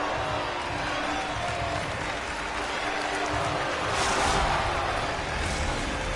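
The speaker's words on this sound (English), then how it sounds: "You can feel the energy in this crowd" A crowd at an ice hockey arena late in a tied period keeps up a continuous roar of applause and cheering, swelling a little toward the end, with no clear talk over it.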